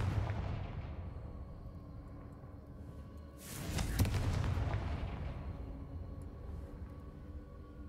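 A fiery magical blast from the Confringo spell in Hogwarts Legacy bursts out mid-clip as a sudden booming explosion, then rumbles and fades over a low ambient background.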